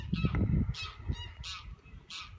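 Loud honking calls from waterfowl at a lakeside camp in the Lake District, several repeated squawks spaced through the stretch with low rustling underneath and no talk.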